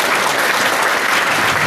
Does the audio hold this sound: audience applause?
yes